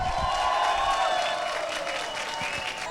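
A crowd at the Miss Wenus 2013 award ceremony in Kortowo cheering and applauding, a sustained roar of clapping and shouts heard at a moderate distance, with a voice over a loudspeaker briefly audible.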